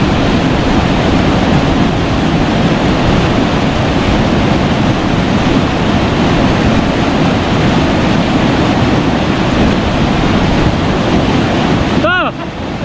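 Water pours steadily over a dam spillway, a loud, continuous broadband roar that fills the whole stretch and drops off abruptly at the very end.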